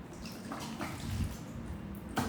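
A faucet runs while hands are washed with soap, a soft steady trickle and splash of water nearby with a louder gush near the end, no talking over it.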